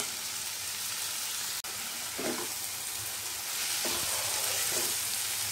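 Potato and fenugreek leaf sabzi sizzles steadily in a pan on high flame, a constant bright frying hiss with a few soft scrapes of stirring, no talk.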